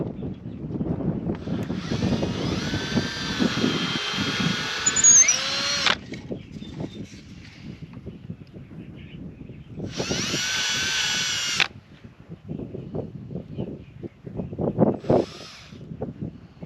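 A power drill pre-drilling wood for screws while building pasture boxes outdoors, with two long whining bursts and a short final one separated by wind rumble.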